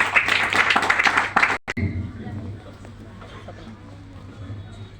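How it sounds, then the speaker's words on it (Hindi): An audience claps together at a success celebration meeting in Sirhind, Punjab. The dense applause lasts under two seconds, breaks off abruptly, and then gives way to a quieter room with a low hum and a voice speaking. "आप तालियां बजा सकते हैं।"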